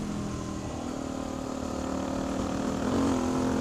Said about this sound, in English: The DRZ gets going when you get the revs up.